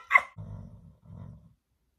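A dog snoring indoors, close by: a brief higher snort followed by two low, rumbling snores with a short pause between them.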